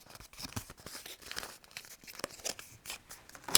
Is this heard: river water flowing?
no